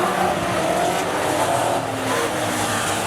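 AMCA race cars at Rockhampton Speedway, a dense continuous roar of several engines at once, with loud, steady revving and tire noise carrying throughout.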